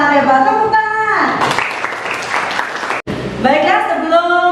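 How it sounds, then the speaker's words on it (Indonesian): Classroom of children clapping hands together in a loud, dense burst of applause lasting a couple of seconds, with voices talking and chanting before and after. "Tepuk tangan"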